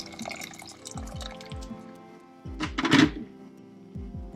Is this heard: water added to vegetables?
yes